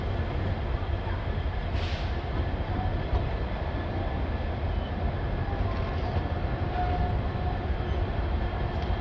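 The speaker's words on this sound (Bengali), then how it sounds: "10 মিনিট মতো দাঁড়ানোর পর এনজিপি থেকে ট্রেন ছেড়ে দিয়েছে" Padatik Express pulls out of New Jalpaiguri station, heard from on board as a loud, steady rumble of wheels and carriages rolling continuously, with a brief hiss partway through.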